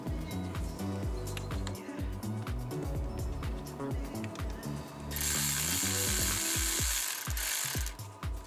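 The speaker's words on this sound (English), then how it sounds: "Even though I'm using a battery-powered ratchet, I'm screwing the bolts lightly." A battery-powered ratchet drives the thermostat housing bolts on a 1998 Land Rover Discovery 1 LE 4.0, giving rapid, close mechanical clicking with motor whir, then a sustained higher-pitched whine near the end.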